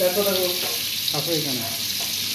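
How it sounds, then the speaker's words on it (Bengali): Chicken meat braising and frying in a pan, giving a bright steady sizzle with stirring sounds while a voice talks over it in short phrases. "মাংসগুলো কষাইতে আছে, দেখুন বন্ধুরা।"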